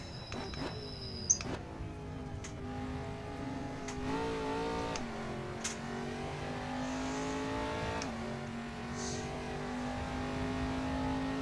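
A race car engine revs up and down as it downshifts through gears, a steady droning note stepping in pitch with sharp blips between shifts, heard from inside at moderate volume.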